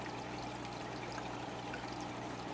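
Water poured into an aquarium fish tank during a full water change makes a faint, steady trickling stream for the whole stretch, with no talk.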